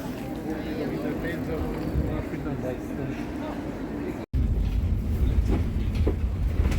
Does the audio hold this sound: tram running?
yes